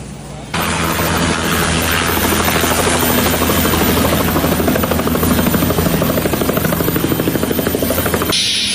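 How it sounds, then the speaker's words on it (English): Helicopter flying close by at a rally in Saginaw, Michigan, bringing in supplies, a loud steady rotor chop with rapid rhythmic beating and engine whine that starts abruptly and holds for several seconds before cutting off. "So, Flash helicopter, bring in pizza."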